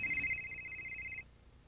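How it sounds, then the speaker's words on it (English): Ringer of a vintage Motorola DynaTAC cellular phone from the 1990s, a steady electronic trill lasting just over a second at moderate level over a faint background hum, with no talk. "You can also adjust the phone's ringer to receive incoming calls."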